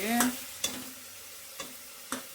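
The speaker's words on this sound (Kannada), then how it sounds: "ಒಗ್ಗರಣೆ ಹಾಕಿದ್ರೆ ಮೌನ್ ಬಂದು ಅಲ್ಲಾಡಿಸ್ತಾಳೆ ಸೌಟ" Tempering spices for sambar sizzle in hot oil while a ladle stirs the pan, sounding as a soft continuous sizzle with about four sharp scraping strokes, close and without talk.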